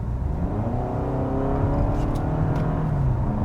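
A 2022 Toyota Camry XSE in sport mode accelerates steadily, its engine note droning and rising under a constant road and wind roar with no speech.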